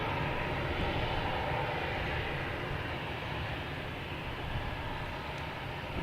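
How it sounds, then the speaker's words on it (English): A Delta Airbus A321 descending to land at Boston Logan Airport, a broad steady jet engine roar heard from the ground at moderate distance, continuous throughout with no talking. "Now we have Delta coming down here, an A321 that's going to be heading to Atlanta"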